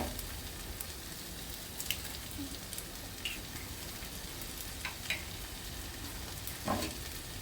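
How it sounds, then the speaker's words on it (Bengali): Two eggs cracked into a small space in a wok with very little oil and snake gourd, frying with a steady, quiet sizzle and occasional faint pops and clinks, no talking. "এখন আমি ছোট্ট একটা জায়গা করে নিয়েছি কড়াইয়ের মধ্যেই, এখানে আমি 2টো ডিম ভেঙে দিয়ে দেব।"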